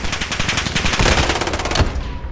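Rapid automatic gunfire from Call of Duty: Modern Warfare multiplayer on a hardpoint map, a dense, loud stream of machine-gun shots rattling continuously with a few heavier cracks mixed in.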